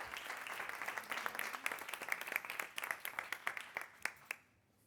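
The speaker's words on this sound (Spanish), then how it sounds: "Un aplauso." Applause from a business event audience welcoming two guest speakers, steady dense clapping that thins into a few sparse, distinct claps before fading out.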